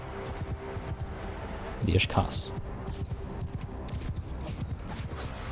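Hooves clip-clop in a quick, steady rhythm as horses move in Mount & Blade II: Bannerlord, with a brief louder thud partway through and someone talking over the sound.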